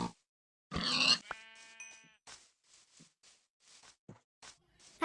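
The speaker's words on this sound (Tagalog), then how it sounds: "At meron pang tupa dito kaya pinatay ko na rin to." Sheep in a video game bleat and grunt as they are struck and killed, with one loud bleat followed by short, scattered hit sounds and faint game noises.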